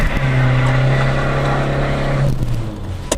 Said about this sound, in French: Tu accélères et tu lâches l'embrayage.